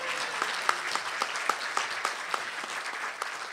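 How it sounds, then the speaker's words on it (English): Applause from guests at a gala dinner, a brief round of scattered clapping with distinct individual claps in an indoor hall, moderately loud and without speech. "That deserves a second round of applause for her."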